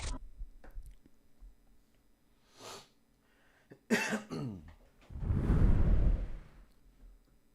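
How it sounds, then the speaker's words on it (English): A loud, close cough bursts right into the microphone on a talk show, a heavy muffled blast after some scattered clicks and breaths, then trails off. "I just coughed in the mic"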